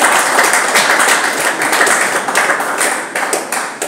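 A hall audience at an organization's handover ceremony at its headquarters claps loudly and densely, a full burst of applause that slowly thins toward the end.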